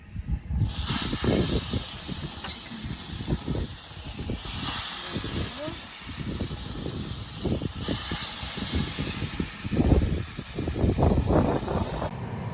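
Steady loud hiss and sizzle of meat searing on a hot grill, with crackling pops throughout and some background noise.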